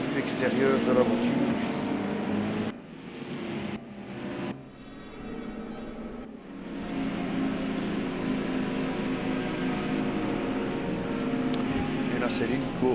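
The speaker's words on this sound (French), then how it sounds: "Et là c'est l'hélico." A helicopter in the RaceRoom racing game at Monza gives a steady, full-bodied drone that holds throughout, with a brief dip and stutter a few seconds in before settling back to a constant hum.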